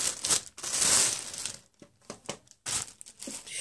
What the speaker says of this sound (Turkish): Şöyle bir poşet mi geliyor? Çıkartalım poşetinden.